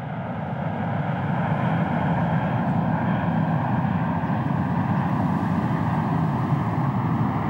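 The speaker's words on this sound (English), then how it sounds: "wait for a plane taking off from nearby Prestwick Airport to pass" An aeroplane taking off from nearby Prestwick Airport passes over the Royal Troon golf course during the 2004 Open, its engines making a loud, sustained low roar throughout.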